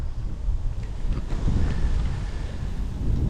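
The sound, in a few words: wind blowing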